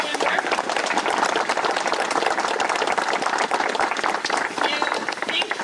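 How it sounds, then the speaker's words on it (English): An audience at a retirement run and ceremony for senior sled dogs breaks into a loud, continuous round of applause and clapping that fills the whole stretch, with crowd voices mixed in. "let's give a round of applause to Rob and Kimber"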